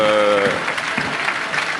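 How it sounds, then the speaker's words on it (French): Spectators at the 2009 Bastille Day parade in Paris applaud marching Indian army troops, a loud, sustained wash of clapping with a commentator's voice briefly over the start. "Et là, très applaudi."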